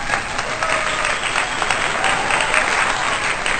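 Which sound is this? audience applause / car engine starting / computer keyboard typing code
audience applause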